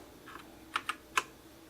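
A few soft keystrokes on a Motospeed CK101 RGB keyboard, a budget mechanical board, sound as quiet isolated clicks, two faint ones followed by three sharper taps, close and otherwise silent.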